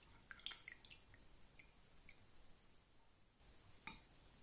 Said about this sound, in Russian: Сливаю через ситечко с него всю воду.